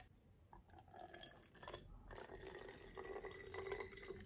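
A spray bottle mists water onto hair at close range, giving soft hissy spritzes and a faint liquid patter, fairly quiet with a few brief bursts and no talking.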